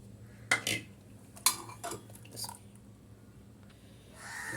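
A spoon stirs kootu curry of soft-cooked yam and ground paste in a pot. A few sharp metallic clanks against the pot give way to quieter scraping, all close and fairly soft.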